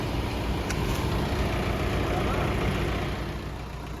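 A heavy John Deere four-wheel-drive tractor engine rumbles steadily at close range, a deep continuous drone that eases slightly toward the end.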